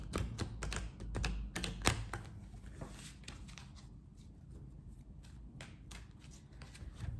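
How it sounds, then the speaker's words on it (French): Tarot cards riffle and flick in quick clustered bursts near the microphone, the brisk shuffling easing into softer scattered snaps over a low steady background hum. "pendant que je bats les cartes"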